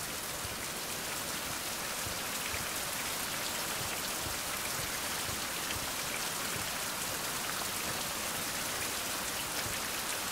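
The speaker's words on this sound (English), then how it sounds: "And here comes the rain." Steady rain in the survival video game Survival: Fountain of Youth, a constant soft hiss of falling drops heard alone at a moderate, even level throughout.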